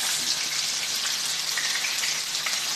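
Onion frying in melted butter for butter chicken, a steady close crackle and sizzle without pause, no voices.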